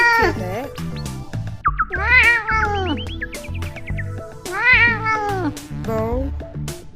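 A cat meows repeatedly, with several long, drawn-out, wavering cries at close range. Shorter mews come between them, and the calls stand out clearly over a low background rumble.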